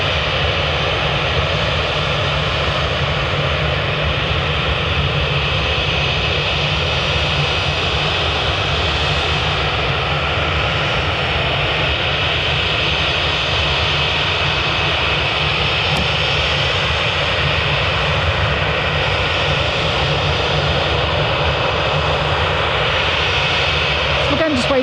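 Ryanair jet aircraft at Manchester Airport produce a loud, continuous broadband engine roar that holds steady throughout, with a faint voice underneath.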